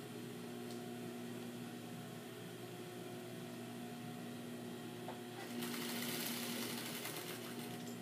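A sewing machine hums steadily at a low, even level while stitching around a jacket facing and across the hem, then turns brighter and louder near the end; no voices are heard.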